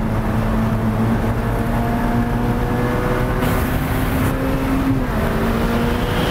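A Ferrari F8 Spider's turbocharged engine revs hard toward redline, heard as a loud, steady roar with rising engine tones that climb over several seconds.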